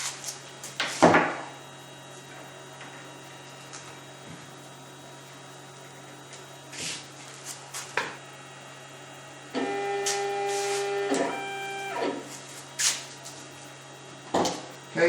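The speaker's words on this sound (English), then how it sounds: "We're going to do a quick Z-axis probe to tell the machine where the top of the material is." A CNC machine probes the Z-axis down to the top of the material while building a DIY drum sander. A steady low hum runs throughout, with scattered clicks and a stretch of sustained stepper-motor whine.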